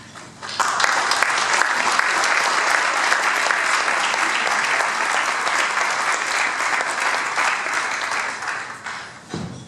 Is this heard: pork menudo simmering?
no